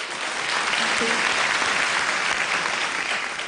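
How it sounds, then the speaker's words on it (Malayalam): A television singing-competition audience claps steadily and loudly for several seconds, a dense wash of applause with no break. "നമ്മളൊരു എക്സ്ട്രാ കൈയടി കൊടുത്തേ പറ്റൂ."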